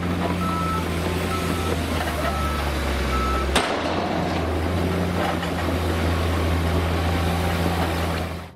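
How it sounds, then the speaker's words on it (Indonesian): A toy sand truck gives off a steady electronic motor drone with a beeping tone, continuous and close, with a brief click partway through and no talk over it. "Di sini ada mobil truk pasir."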